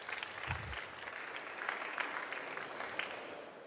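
Light applause from a conference audience at an additive manufacturing trade fair stage, fairly quiet and steady for a few seconds with a faint low thump near the start.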